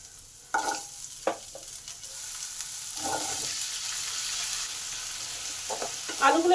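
Potatoes tipped into fried spices in a pan for a Bengali white potato curry bring a near sizzle with scraping stir strokes and clanks, the frying hiss swelling as it goes on; nobody speaks.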